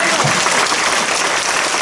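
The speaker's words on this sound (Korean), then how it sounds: "그냥 주님께 영광의 박수 드리겠습니다." A church congregation claps loudly and steadily for about two seconds, dense applause filling the whole clip.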